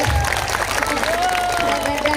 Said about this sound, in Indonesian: Kasih tepuk tangan dulu dong buat